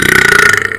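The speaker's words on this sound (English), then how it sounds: "I'm about to burp" A single loud, drawn-out burp from a person, raspy and resonant, lasting under a second and heard alone up close.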